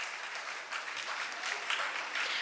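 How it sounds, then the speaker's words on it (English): Applause from an audience welcoming dignitaries at a college inauguration ceremony, a steady dense patter of many hands clapping throughout, moderately loud and close. "applause."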